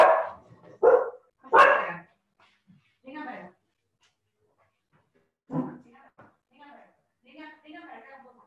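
Dogs bark several times in sharp bursts nearby, with a person speaking between the barks.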